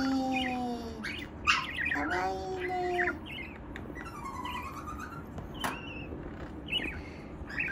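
A parakeet chirps and tweets in a run of short, bright calls and squeaky notes, close and fairly loud indoors, with a few brief pauses between bursts and no talking.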